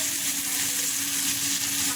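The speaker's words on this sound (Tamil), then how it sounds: "திருப்பி போட்டு நல்லா ஃப்ரை ஆகும்" Fish frying in hot oil in a pan: a dense, loud, continuous sizzle held at an even level for two seconds.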